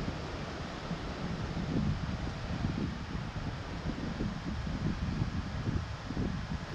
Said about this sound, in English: It was super windy out that day.